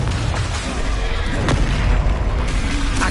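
A Confringo spell explodes in Hogwarts Legacy, a loud booming blast with crackling bursts and sharp pops layered over a deep rumble, continuous across the whole stretch without voices.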